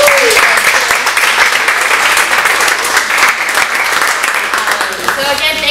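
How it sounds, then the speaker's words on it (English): An evening event audience gives a round of applause, loud, dense clapping that runs steadily throughout, with some cheering or voices mixed in. "Let's give another round of applause for Michael and everyone."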